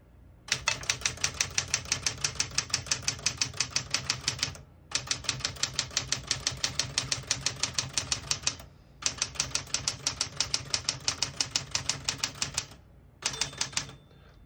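Rapid, even keystrokes clatter on a 1967 Smith-Corona Super Sterling portable typewriter, in three long bursts separated by brief pauses, close and crisp with no talking.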